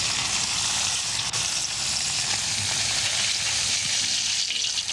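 Catfish fillets frying in hot vegetable oil or beef drippings, a dense, steady crackling sizzle that stays loud and even throughout with no talk.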